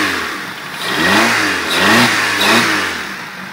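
A project wagon's engine, just started with leftover debris smoking out of the exhaust, idles and then revs up in a few rising swells, loud and close with no talking.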